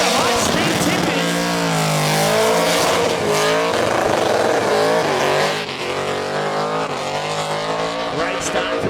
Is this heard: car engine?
yes